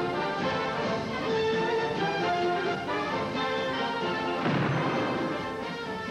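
Heavy booming cannon fire rolls on without pause, a dense, continuous barrage with a louder burst of blasts near the end.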